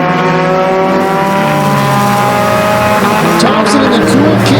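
Pure stock race cars roaring around the oval at Flamboro Speedway, loud engines droning and shifting pitch as they pass close, with tires squealing near the end and a commentator talking over the racket.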